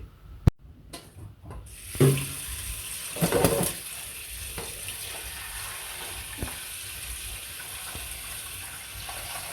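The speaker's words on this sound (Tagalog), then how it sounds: "Binabad lang muna natin sa tubig hanggang sa lumambot siya." Pancit palabok noodles soaking in a bowl of water in a home kitchen, with soft watery sloshing and splashing in brief bursts near the start, then a quiet steady background hiss.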